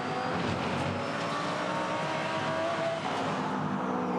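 GT race cars roar through the final laps of a 2015 Australian GT Championship race at Sydney Motorsport Park, a dense, continuous engine drone holding loud and steady throughout.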